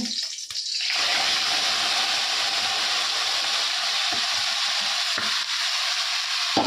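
Spiced gizzard and liver drop into a kadai of fried potatoes and burst into a loud, steady sizzle that holds without a break, with a few faint clinks of stirring beneath it.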